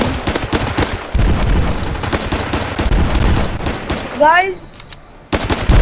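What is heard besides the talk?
gunfire in the Zombie Rush video game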